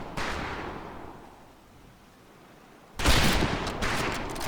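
Gunfire in the 2004 PC game Medal of Honor Pacific Assault, a loud burst of shots at the start, a quieter lull, then a second heavy volley of rapid firing, with no talking.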